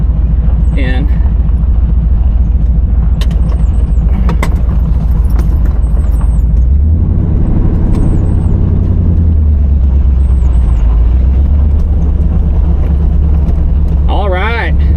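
A 1986 GMC truck's engine hums low and steady while driving on its first outing in years, a loud close drone that deepens and swells midway, with brief squeaky whistles and rattles over it and a voice speaking at times.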